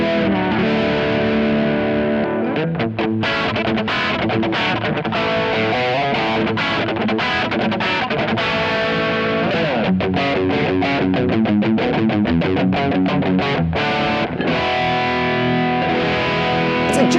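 A James Trussart Rustcaster electric guitar played through a Bogner Ecstasy amp turned up to around 7 or 8 delivers a dense, distorted, continuous riff with ringing overtones and a slightly nasal edge, loud and close, with no talking.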